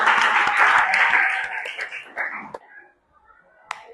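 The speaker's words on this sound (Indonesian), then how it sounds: "Tepuk tangan buat kita semuanya" Children in a classroom clap their hands together in a dense burst of applause that fades out after about two and a half seconds, followed by a few scattered claps and quiet murmuring.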